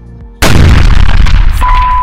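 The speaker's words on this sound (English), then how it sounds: "did I mention that there's a cannon that goes off every time the home team scores?" A stadium cannon booms when the home team scores at a Pioneer Football League field ringed by a grass berm and forest, one sudden very loud blast with a long rumbling tail.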